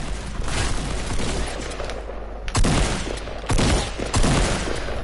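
Rapid bursts of gunfire in the video game Fortnite, several loud volleys crackling across the clip with sharp reports near the middle and end, over dense game background noise.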